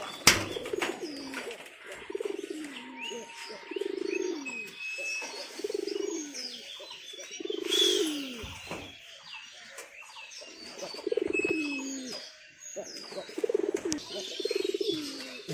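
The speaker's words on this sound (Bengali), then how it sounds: "সব পায়রা আছে এখানে চালে," Pigeons on a rooftop coo in a steady run of low, throaty phrases throughout, with occasional chirps and brief wing flutters from the flock.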